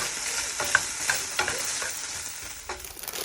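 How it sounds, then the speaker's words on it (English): Steady sizzling of food frying in a pan, with repeated scraping and clinks as it is stirred around, close by. "And stir it around again."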